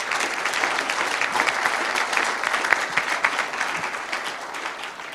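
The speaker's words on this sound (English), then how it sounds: "show them your appreciation with a round of applause" A conference audience gives panellists a sustained round of applause, dense steady clapping from many hands filling the room for several seconds.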